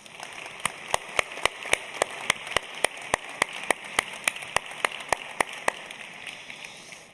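Audience applause at a talk on the circular city, a steady wash of many people clapping with distinct sharp claps spread across roughly seven seconds before it tapers off.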